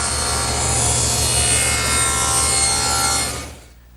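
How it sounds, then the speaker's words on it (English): A table saw makes a 90-degree cut through a wood board, giving a loud, steady ripping buzz that lasts about three and a half seconds before quickly dying away, with no voices. "Now what I want to do is make a 90-degree cut to that first bevel that I made."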